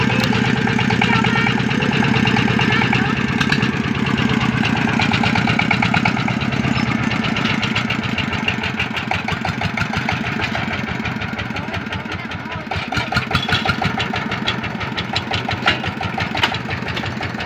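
A công nông farm truck hauling coffee labours as it pushes into bushes and stalls on the climb, a loud, rapid, chugging diesel putter that stays continuous, dips slightly, then pulses harder near the end.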